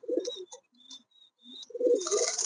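Pigeons coo close by in a few short, throaty bursts separated by brief pauses, ending in a rush of rustling, flutter-like noise.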